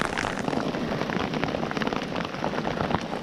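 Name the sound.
rain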